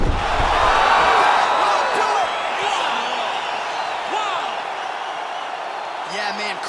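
Crowd roaring at a UFC heavyweight fight just after a clean knockout strike, a loud sustained wash of cheering that slowly eases off, with commentators' voices over it.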